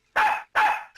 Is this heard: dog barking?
yes